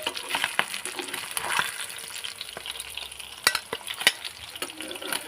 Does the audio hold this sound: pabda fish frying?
yes